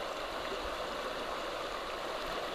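A river in Sedona, Arizona rushes and gurgles steadily, a dense broadband wash of flowing water filling the whole stretch at an even, close level with no voices.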